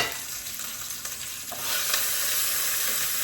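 Short rib meat sears in a pot on the stove, giving a steady, dense sizzle that swells slightly louder halfway through, with a faint stir or scrape near the start.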